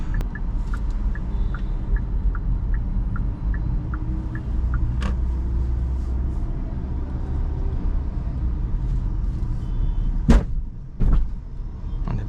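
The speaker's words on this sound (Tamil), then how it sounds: "தட் சவுண்ட் சில சமயத்தில் வந்து கேட்குது, பட் சஸ்பென்ஷன் அதோட வேலையை சரியாக பார்க்குது" Hyundai Exter AMT driving on a highway, a steady road and engine rumble inside the cabin, with sharp suspension thuds near the end as it passes over a speed breaker.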